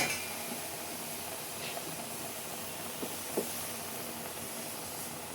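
Bottle gourd greens sizzle in hot oil while a traditional Barishal-style curry cooks, making a faint, steady hiss with a few light clinks.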